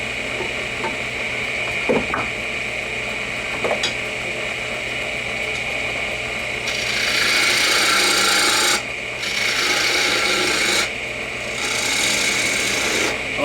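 A miniature piece of wood spins on a lathe while a tool hollows out a small form: a steady motor whine under soft scraping, then louder rasping cuts in several bursts toward the end.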